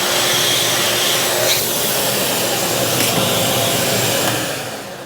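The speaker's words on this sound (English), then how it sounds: "I'm going to vacuum it all up." Vacuum cleaner running steadily while cleaning the headliner area of a 1978 Trans Am, a loud continuous broadband whoosh with slight shifts in pitch that tapers near the end.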